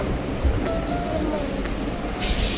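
A train rolls past and brakes to a halt on a rainy morning, a steady broadband rumble of wheels and cars filling the scene, with a brief hiss near the end as it comes to a stop.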